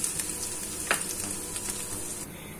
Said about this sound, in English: First, fry the potato, and then remove,